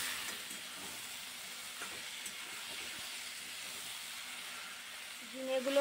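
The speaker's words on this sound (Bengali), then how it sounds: "নাড়িয়ে চাড়িয়ে ভালো করে একটু ভেজে নেব।" Ridge gourd stir-frying in leftover fish oil in a kadai, a steady soft hiss and sizzle with occasional faint scrapes of stirring, fairly close and even throughout.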